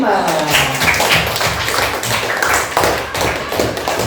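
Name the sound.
children clapping for class 5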